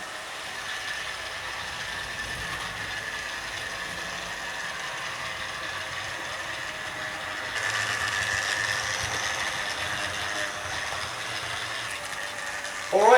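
A Hornby model locomotive of a 1950s BR 3MT steam engine runs with a steady whirring, rattling mechanical drone that grows slightly louder partway through, close and continuous, with no talking.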